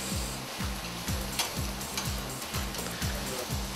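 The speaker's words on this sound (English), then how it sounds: "A little bit more butter in there with the sprouts just to glaze them off. Mix it through. Give them a good stir around" Brussels sprouts sizzle in butter in a pan while being stirred, with a rhythmic scraping pulse repeating about every half second over a steady fry hiss.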